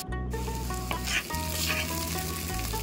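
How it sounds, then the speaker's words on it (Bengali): Sliced onions hiss and sizzle in hot oil with cumin seeds for a Bengali-style desi chicken curry, a steady close frying crackle with a brief stirring scrape partway through. "আর আমি দিয়ে দিলাম কোচানো পেঁয়াজগুলো। দিয়ে আমি ভালো করে পেঁয়াজগুলোকে ভেজে নেব।"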